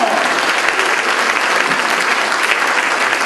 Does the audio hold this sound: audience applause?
yes